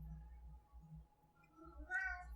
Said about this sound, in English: My cat, also interested in the instance.